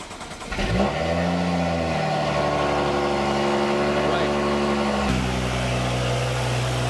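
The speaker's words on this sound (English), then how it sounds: "from here, we can start the car" A BMW F30 335i with an N55 engine cranks and catches, its pitch rising as it revs up, then settles into a steady, loud idle with a shift in tone partway through.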